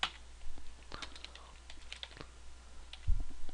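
Keys on a computer keyboard are tapped in a short, irregular burst of light clicks, close and fairly quiet, with a dull thump near the end.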